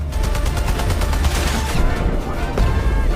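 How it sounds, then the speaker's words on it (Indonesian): Sustained gunfire in a film action scene, a loud continuous fusillade of rapid shots with crashing impacts, dense and unbroken throughout with no talking. "menunggu aksi tembak-tembakan itu mereda"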